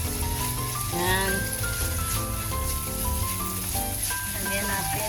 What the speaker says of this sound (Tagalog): Nilagay ko na yung bawang at yan, igigisa natin tong bacon.